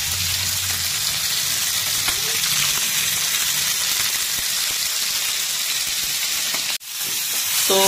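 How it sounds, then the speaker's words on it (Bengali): Fish shallow-frying in a pan with little oil for a light Bengali fish curry, a dense continuous close sizzle that briefly drops out near the end before resuming. "মাছটা ভাজা চলছে"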